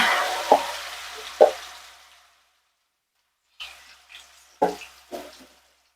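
Bitter gourd slices frying in hot oil give a loud, close sizzle that fades out over about two seconds, broken by a couple of sharp knocks, then a few separate stirring clatters after a short silence.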